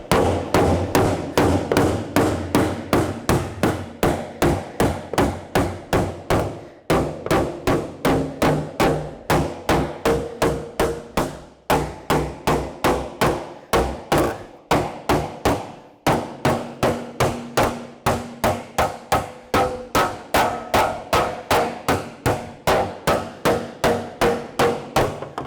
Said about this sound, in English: I might use a blocking hammer a little bit.